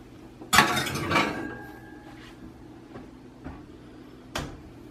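A metal pan with a stick of butter being put into a preheated 350-degree oven: a sharp clatter of the pan, a second knock, then a few soft clunks and a final bang as the oven door shuts, close and otherwise quiet.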